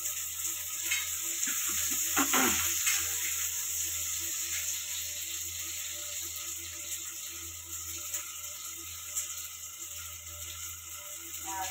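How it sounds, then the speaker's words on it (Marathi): Onion frying in a pan, a faint continuous sizzle with a brief burst of stirring and scraping early on, then a quiet steady hiss. "सर्वात पहिला मी आता कांदा भाजून घेणार आहे"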